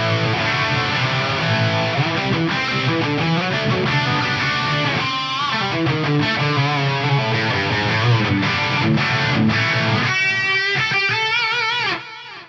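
Distorted electric guitar played through a Fractal FM3 on the USA Lead amp model with delay, pitch and reverb, sustaining busy melodic lines with echoing repeats, loud and continuous for about twelve seconds before cutting off.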